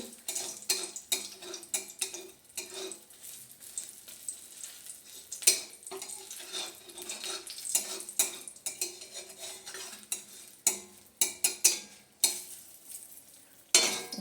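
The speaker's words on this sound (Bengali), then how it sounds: "দেখুন আমি নেড়ে ছেড়ে ভালোভাবে ভেজে নিচ্ছি।" Bitter gourd fries in a pan, with a utensil scraping and clinking against the metal in irregular bursts over a soft sizzle.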